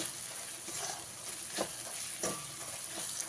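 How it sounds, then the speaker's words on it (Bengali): Spice masala with coriander and cumin powder and salt being sautéed in a pan for a jackfruit and prawn curry, giving a quiet, soft sizzle with occasional scraping stirs and no talking. "খুব ভালো করে কষিয়ে নিতে হবে"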